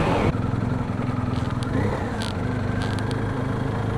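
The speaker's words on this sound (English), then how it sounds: "No, I'm on an adventure bike." Adventure motorcycle engine droning steadily and close while riding, with a low rumbling throb throughout and brief voices over it.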